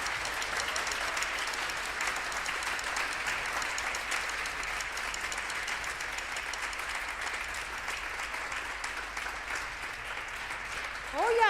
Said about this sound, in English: So how about a hand for all the Honor Band students?